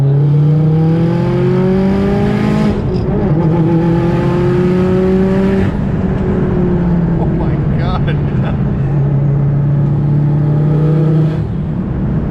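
A loud big-turbo Subaru WRX with over 450 wheel horsepower revs and accelerates through rising gear pulls, with wastegate chatter and excited voices talking over it.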